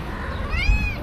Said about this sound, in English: nearly stepped on a cat